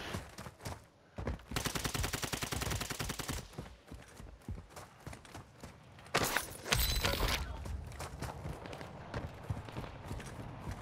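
Bursts of rapid automatic gunfire ring out in Call of Duty DMZ, a long sustained volley, then scattered single shots and footsteps, and a second heavy close burst later, with distant shots in between.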